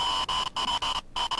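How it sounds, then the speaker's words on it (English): Static-laden electronic tone from the Slenderman mod in Minecraft, a buzzing hum with steady bands that cuts out in short gaps, pulsing on and off about four times, loud and alone. "That right there was the very, very kind of well-known Slenderman sound"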